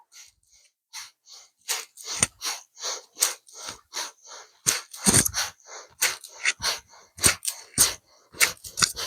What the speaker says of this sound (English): You kind of like really squeeze the breath out, and you just gradually start to get a little bit quicker